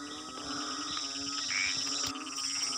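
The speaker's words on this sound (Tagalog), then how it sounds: "asahan na may ganitong mga palaka na maiingay dito" A dense night chorus of frogs and insects in a rice field after heavy rain trills and croaks steadily at a distance, a constant layered drone with occasional louder calls.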